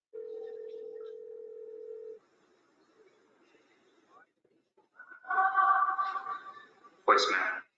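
A telephone call being placed: a steady dial tone sounds for about two seconds, followed by quiet, then louder warbling tones and a short burst of noise at the end.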